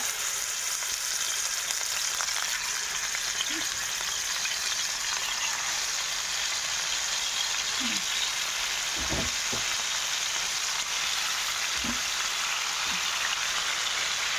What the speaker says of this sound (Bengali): এদিকে হচ্ছে মুরগির মাংসটা ভাজা হচ্ছে রোস্টের জন্য